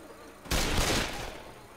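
Gunfire erupts in Left 4 Dead, a sudden loud burst of rapid shots after a quiet stretch, sustained for about a second and then tailing off.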